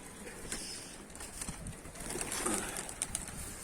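Pigeons coo softly and flap their wings nearby, with scattered rustling and brief wingbeats amid faint background noise.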